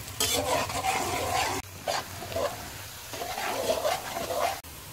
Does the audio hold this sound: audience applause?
no